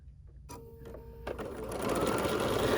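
A Bernina sewing machine stitches a seam on fabric for a stuffed bear, starting abruptly after a brief silence and running steadily, its close mechanical whir growing louder and faster.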